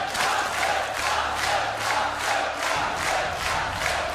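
A Polish crowd at a WCS Premier League 2015 StarCraft 2 semifinal cheers and chants in a loud, rhythmic roar, swelling in about eight regular pulses that fill the hall.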